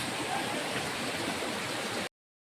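Rushing water from a river waterfall, a dense, steady broadband roar that stays close and loud without a break for about two seconds, then cuts off abruptly.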